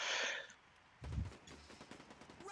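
Gunfire crackles in a competitive video game match, a short burst at the start, a heavier thump, then a rapid string of quieter shots, fairly faint overall.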